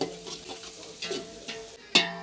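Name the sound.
onion being stirred and fried on a chulha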